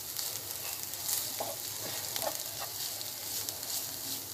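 Onions and carrots fry in a pan for a lasagne sauce, giving a steady, close sizzle with a few soft stirring scrapes and no talking.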